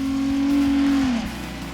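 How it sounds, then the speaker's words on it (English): A Jeep JK engine growls loudly and steadily with a deep Borla exhaust drone, then eases off near the end as the pitch drops. "we love the sound of the Borla exhaust."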